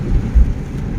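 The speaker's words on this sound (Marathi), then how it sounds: "पाऊस खूप जोरात चालू आहे" Heavy rain drums on a car driving over a flyover, a dense, loud, low roar with a couple of deeper thuds.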